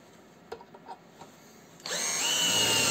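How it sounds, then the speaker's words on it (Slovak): A few faint clicks and taps, then a TopShak TS-ED1 cordless drill with a 4 mm bit whirs up sharply in second gear and runs steadily at high pitch, close by, drilling into 5 mm steel. "Skúsime ešte navrtať niečo do ocele."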